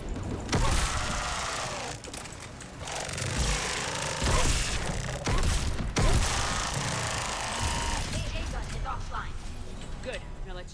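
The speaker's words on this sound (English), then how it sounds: "Stop shooting me so I can shoot you!" Dense bursts of gunfire rattle through a Mass Effect 3 firefight, loud and continuous, layered with other game effects and a voice.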